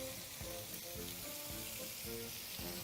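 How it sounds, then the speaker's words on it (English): Lamb searing in a frying pan with a little olive oil, giving a steady close sizzle with soft crackles and faint tonal clicks throughout, no voices. "and just sear it."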